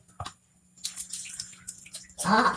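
Water is poured over rice being washed for kuzhimanthi, coming as a brief splash, then uneven trickling and dribbling, and ending in a fuller, louder pour close by.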